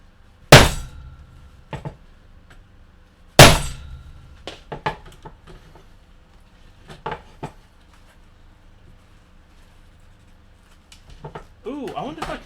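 An ASRock 880GMH/U3S3 motherboard struck on its DIMM slot area, two sharp loud cracking smashes followed by scattered small clinks and rattles of loose parts, with a voice talking in between.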